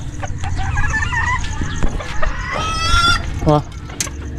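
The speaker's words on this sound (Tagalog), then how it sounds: "nagiingay po siya gusto gusto niya mangitlog ito naman yung ating sea bright" A Sebright chicken clucking noisily as it wants to lay an egg, with a series of close, loud, rapid clucks and squawks rising into a drawn-out cackle.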